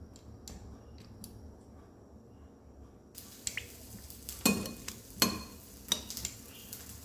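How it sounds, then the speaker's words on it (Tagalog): Pieces of eggplant crackle and sizzle in a hot, dry pan without oil in sharp bursts, with quiet scraping and stirring between them and no talk. "Ganito po yung ginagawa ko sa talong pag nagpiprito ako"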